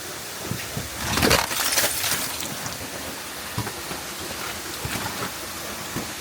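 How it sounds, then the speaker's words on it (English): A chunk of blue ice breaks off a frozen waterfall near Jim Thorpe, Pennsylvania, giving a brief crackling clatter of falling and shattering ice over steady trickling water, followed by scattered small ice fragments pattering down. "Oops, I knocked a piece of ice down."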